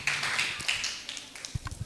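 A classroom group clapping for a religious-history lesson: a short, uneven patter of hand claps, thin and fairly quiet, tapering into a few scattered separate claps at the end.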